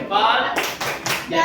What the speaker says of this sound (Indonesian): Oke, tepuk salut untuk Rahasia. Tepuk salut